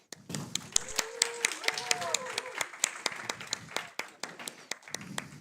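Audience applause greets the judges being introduced at EponaFest 2026, scattered sharp claps spread across a lively room while cheering voices and whoops rise over them.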